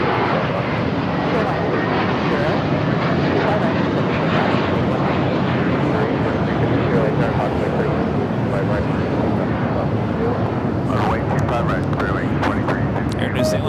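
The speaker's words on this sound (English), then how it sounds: "Flight heading to Boston, it's JetBlue A321." A JetBlue Airbus A321 airliner at Los Angeles International Airport produces a steady, loud jet engine roar with broadband rushing noise, continuous and unbroken for the whole stretch, with some wind buffeting.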